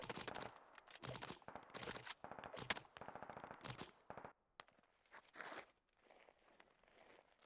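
Rapid bursts of gunfire crackle through a military video game operation, sharp close shots in clustered volleys, then thinning out into sparser distant pops near the end.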